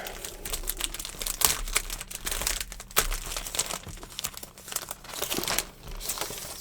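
Sheets of paw print paper, letter-size craft paper, crinkle and rustle close up in bursts of handling, loud crackling with short pauses between, no talking.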